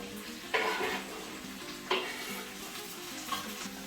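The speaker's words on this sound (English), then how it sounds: "Now we're going to give those a stir to make sure they're all fully coated in the oil" Courgette, onion and pepper sizzle steadily in oil in a pan for a vegan paella, with a few scraping stir strokes standing out over the constant frying hiss, quiet and close, no speech.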